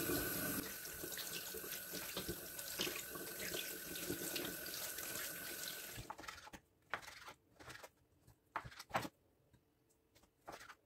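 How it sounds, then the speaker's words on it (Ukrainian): Tap water runs steadily into a kitchen sink while raw meat is rinsed, a close, continuous splashing stream for about six seconds, then stopping and giving way to brief intermittent splashes and handling sounds. "Зараз от м'ясо перемию і буду нарізати."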